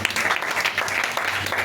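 A church congregation applauds during a worship service, a dense, steady patter of many hands clapping at moderate loudness with a faint voice beneath.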